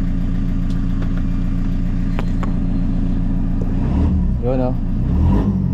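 A Toyota Commuter or Grandia van engine idles near 900 RPM with a steady low hum, then revs up briefly as the accelerator is pressed, close by, while someone speaks a few words.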